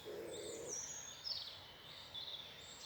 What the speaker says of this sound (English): Just listen to the bird sound,